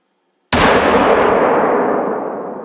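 A single loud 7mm magnum rifle shot in the hunting video game theHunter: Call of the Wild, a sharp close blast after brief silence that rolls off into a long fading echo.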